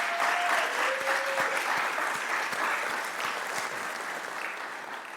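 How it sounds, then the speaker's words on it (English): An audience at a city council Black History Month celebration gives a round of applause, sustained and full at first, then easing slightly toward the end. "So let's give Council a round of applause."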